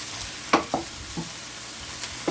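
Chopped onion and bell peppers stirred in a hot pan for chop suey, a steady low sizzle broken by a few scraping knocks of the spatula, no voices.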